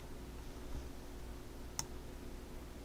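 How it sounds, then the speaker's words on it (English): A single sharp computer mouse click, used to select an option in Lightroom photo-editing software, sounds once near the middle over a faint steady room hum. "I will come over here and click new"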